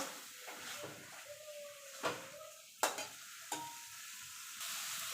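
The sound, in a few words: sautéing boiled eggs in spice masala for egg curry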